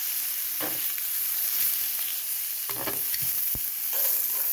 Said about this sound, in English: you want to let those sear in that oil probably 2 to 3 minutes until they are golden on that side